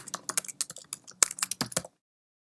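Close, crisp typing on a computer keyboard entering a folder name, a quick irregular run of about twenty keystrokes that stops abruptly, followed by silence.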